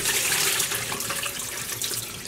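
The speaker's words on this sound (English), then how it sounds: "gently fill this up with some water as like a first rinse" Tap water runs steadily into a dye pot holding layered roving and acid dye powder, filling it for a first rinse; a continuous, fairly loud splashing gush with no talk.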